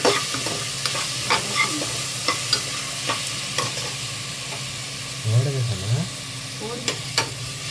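Onions and tomatoes sizzle with salt in a pan. A constant frying hiss runs under repeated clicks and scrapes of a spoon stirring against the metal, close and steady, with a brief low hum midway and no talk.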